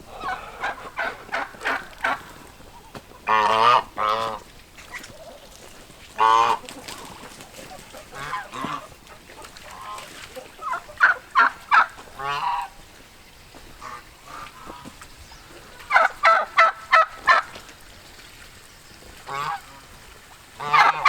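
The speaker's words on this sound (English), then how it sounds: "I'm going to show you some happy geese." Geese honking close by near their pond, loud repeated bursts of calls coming in clusters with short quiet gaps between, no talking.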